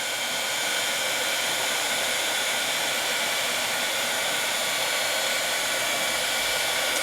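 A heat tool melting layered embossing powder blows a steady, loud, close hot-air whoosh with no break throughout.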